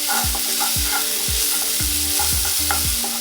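A medium onion frying in butter in a pan, with a steady loud sizzle and regular scraping stirs of a spatula about every half second, close up with no talk.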